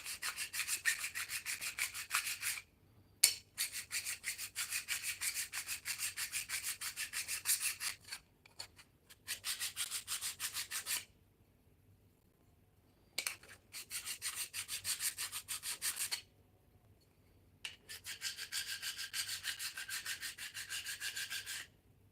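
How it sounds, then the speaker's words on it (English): A blade being sharpened on a whetstone, with steady rasping strokes in long bursts of several seconds, separated by short silent pauses, fairly close and with no talking. "Where's my grindstone? My whetstone."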